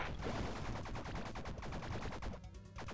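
Gunfire in the video game Bleed as blood cells are shot, a dense, fast rattle of shots that carries on without a break throughout, moderately loud with no talking over it.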